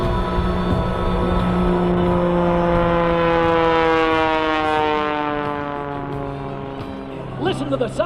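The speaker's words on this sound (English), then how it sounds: "Listen to the sound of that Pitts engine." Pitts aerobatic biplane engine at a seaside air show over the Ocean City boardwalk, Maryland, a loud sustained droning pass with steady harmonic tone that slowly drops in pitch as the aircraft moves away.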